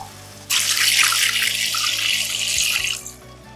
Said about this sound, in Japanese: よく炒まったらお水を 500ml 入れます。